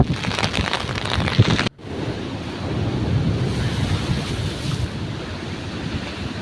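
Rough sea waves crash and roar continuously at Kappil beach under a rain-laden sky, a loud, close wash of surf with gusty wind buffeting the microphone, broken by one abrupt cut before the roar resumes.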